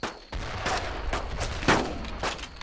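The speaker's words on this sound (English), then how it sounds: "Incoming fire!" Rapid World War II gunfire in the Brothers in Arms video game, a dense fusillade of overlapping close rifle and machine-gun shots firing continuously at a loud level.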